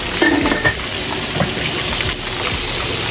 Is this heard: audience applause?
no